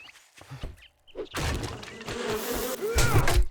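Bees swarming out of a broken tree stump in 7 Days to Die, a loud, dense buzzing that builds after a short crunch and stays close and continuous.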